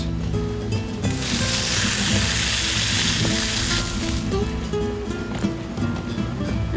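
A garden water hose blasts freshly cleaned, iced crab clusters, a loud rushing hiss of spray for a few seconds before it eases off, with wet splashing and background noise around it.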